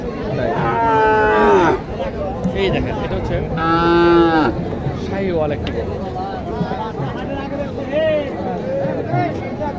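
Cattle at a Bangladeshi livestock market in Naogaon, where improved-breed cows and young bulls are for sale, moo loudly in two long calls with a fainter one later, over close speech and crowd chatter.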